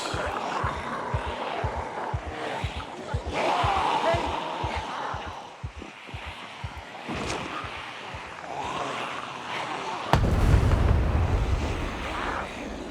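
Pipe bomb explosions in Project Zomboid, with a sudden loud blast near the end over rumbling game noise and steady rhythmic thumps throughout.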